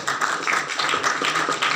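Audience applause at an inter-faith convention, a short burst of brisk, even clapping from a hall crowd, fairly close and steady throughout.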